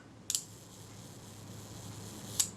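A Kodak Retina camera shutter with oily blades, set to one second, gives a sharp click to open and a second click just over two seconds later, slightly slow, in a quiet room.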